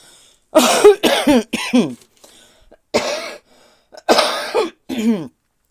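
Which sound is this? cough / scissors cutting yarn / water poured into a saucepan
cough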